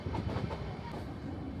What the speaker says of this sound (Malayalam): ഇതൊന്ന് എക്സ്പീരിയൻസ് ചെയ്യാൻ വേണ്ടിയിട്ടാണ് എല്ലാവരും ടോയ് ട്രെയിനിൽ കയറുന്നത്